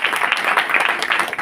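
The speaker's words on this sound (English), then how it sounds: "Please give a huge round of applause." A brief, loud burst of audience applause, many hands clapping in a dense, steady rush that stays strong for the whole moment.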